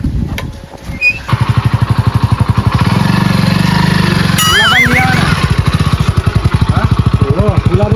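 A motorcycle engine chugs with a fast, steady rhythm throughout, revving up midway, while people talk over it nearby.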